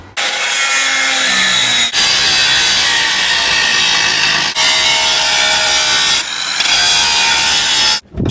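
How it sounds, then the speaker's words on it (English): Steady, loud grinding rasp as old welds are cut away around the steel chain plates of a steel boat, running almost continuously for about eight seconds with brief dips at intervals, close by. "job number 1 is to cut away the old welds around the old chain plates"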